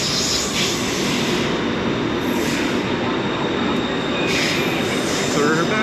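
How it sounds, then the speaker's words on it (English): A BTS Skytrain pulls into a Bangkok station, a loud, steady rumble and rush of the train close by with a high metallic wheel squeal running throughout. "There goes my train."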